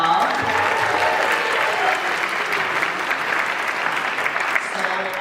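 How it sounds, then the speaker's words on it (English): Sustained audience applause fills a Pride celebration at New York City Hall, a dense steady wash of many hands clapping at even loudness throughout, with no clear voices over it. "Another round of applause, y'all."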